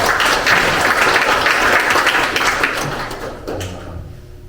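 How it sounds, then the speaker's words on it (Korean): An audience claps at an inauguration ceremony, dense sustained applause filling the hall loudly before gradually thinning out and fading. "편안하게 박수 치시면 됩니다"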